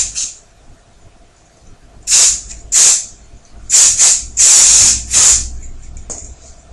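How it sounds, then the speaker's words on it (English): Several bursts of aerosol hairspray onto pin-curled hair, short hissing sprays in an irregular rhythm, close and loud, with quiet pauses between them. "give it a good spray"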